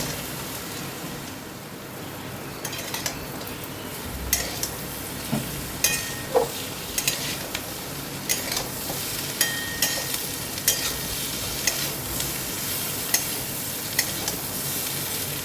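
Chicken pieces frying in a pan give off a loud, dense sizzle like steady rain, while a spatula stirs through them and knocks against the pan in a string of sharp taps; no talking.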